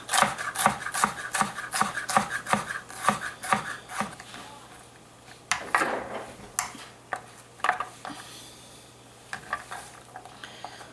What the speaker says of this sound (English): So I just chop this the exact same way I do the celery, just into tiny bits